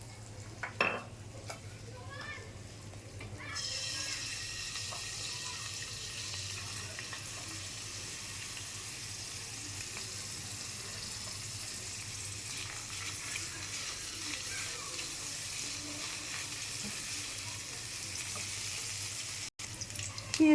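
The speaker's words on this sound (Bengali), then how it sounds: "পেঁয়াজ কুচিটা ভাজা দেব।" Chopped onion goes into hot oil in a wok, setting off a sudden steady sizzle that continues evenly at moderate level after a few clatters at the start.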